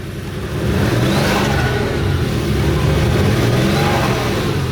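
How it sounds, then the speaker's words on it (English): A van with a 2JZ engine idles steadily with a deep, rumbling idle and a constant mechanical whir, fairly loud and close, with no talking. "The engine sounds great, it idles, you know, totally normal."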